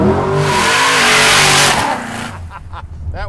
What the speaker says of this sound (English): we just got to see what this thing will do to the tires here